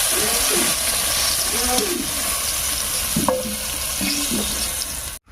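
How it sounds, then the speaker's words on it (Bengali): Continuous crackling sizzle of dried red chillies, cumin seeds and a bay leaf frying in oil left from frying eggplant, with occasional stirring scrapes and clinks. "বেগুন ভাজার এই তেলের মধ্যে রান্নার ফোড়নটা দেবো"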